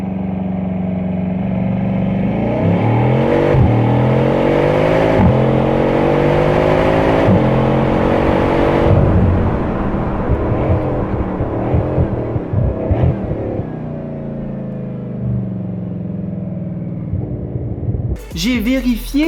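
Recorded exhaust sound module of a Lego Technic car with an eight-speed gearbox, a loud synthetic engine note rising in repeated rev sweeps like gear shifts, then fading to idle, ending with a short clattering burst.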